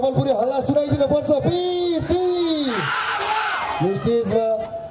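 A festival crowd at the first Gandaki Mahotsav shouts and whoops, with a loud amplified voice bellowing over it and a burst of massed cheering rising near the middle.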